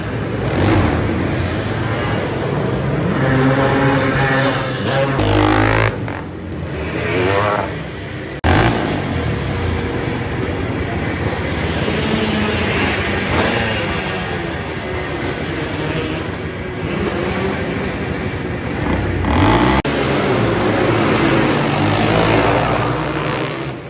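Vintage Honda XR 500 motocross bikes race in an indoor arenacross event, engines snarling loudly and continuously as several bikes rev and accelerate together, with steady crowd and arena noise underneath.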